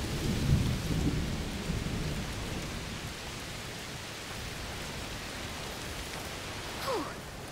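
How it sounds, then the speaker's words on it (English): Heavy rain pours steadily in a stormy scene from the video game A Plague Tale Requiem, with a rumble of thunder near the start and a brief rise near the end, loud and continuous with no talk. "It's raining a lot."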